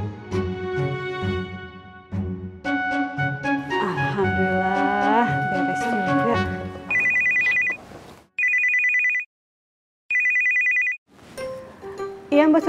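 An electronic telephone ringtone sounds in three loud, steady bursts about a second long with short gaps between them, following a stretch of musical tones and voices at the start.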